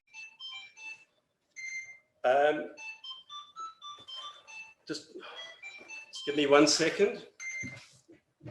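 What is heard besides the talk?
phone ringing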